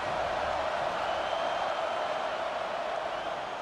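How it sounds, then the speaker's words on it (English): Stadium crowd at a Utah Utes versus Baylor college football game, a steady, dense roar that stays loud and unbroken throughout. "This crowd bringing the energy and noise early."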